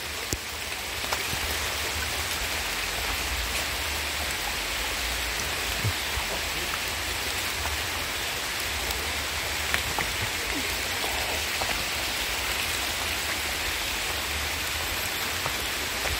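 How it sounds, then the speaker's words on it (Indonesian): Steady rain falls in a village, a dense continuous hiss of drops with occasional louder individual splashes, unbroken from start to finish. "Ini teman-teman, ini benar-benar hujan loh"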